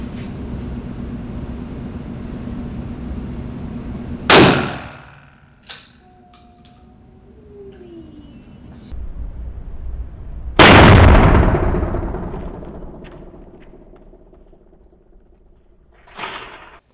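A Remington 12 gauge shotgun fires 4 buck shot into ballistic gelatin. Two loud, close blasts ring out several seconds apart, each trailing off in a long echoing decay over a low outdoor rumble.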